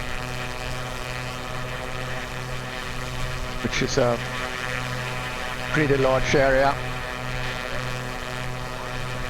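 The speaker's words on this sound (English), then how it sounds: "I wonder if the airplane is too noisy here" Steady drone of an airplane engine inside a flight simulator game on a flight out of the Dallas area, a constant hum under a voice talking throughout.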